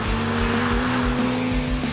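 A BMW M2 with 370 horsepower pulls hard on a race track, its engine note a steady loud drone with rhythmic low pulsing and faint tire noise over two seconds.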